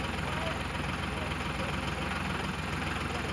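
Tractor engine driven by a child on a hay farm, a steady mid-low running drone at moderate level with no clear changes, heard from a short distance.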